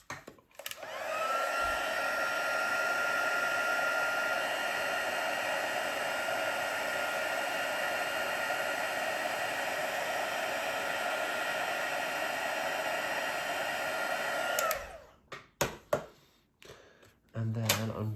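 A heat tool blowing hot air over a freshly stamped craft card, a loud steady whooshing hum held for about fifteen seconds before it cuts off, followed by a few handling clunks.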